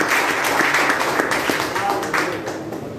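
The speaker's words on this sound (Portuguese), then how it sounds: "Você pode aplaudir ao Senhor Jesus." Applause at a church youth service: a congregation claps in a dense burst that swells and then tapers off over a few seconds, with voices calling out over the clapping.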